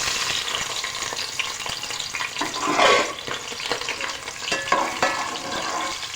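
Onion drops into hot mustard oil and sizzles loudly, the frying hiss swelling with stirring, a clink or two of a utensil partway through, with no talking.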